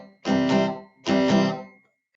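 Two strummed barre chords on a guitar ring out one after the other, each a full, bright strum held for most of a second before fading, played close with no voice.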